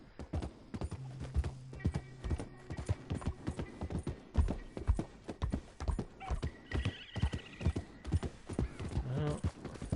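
Horse hooves clip-clop in a steady rhythm in the video game Red Dead Redemption 2, with snorts, a whinny and creaking tack, close and moderately quiet with no talk.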